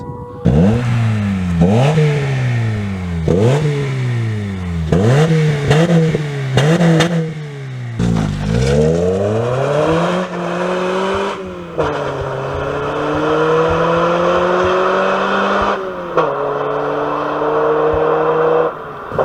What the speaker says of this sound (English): On my Civic, before we swapped the engine, we literally just unbolted the rear muffler.